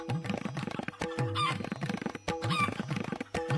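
A cartoon rooster clucks and squawks in quick, agitated bursts while being chased, loud and close with choppy bits of movement in between.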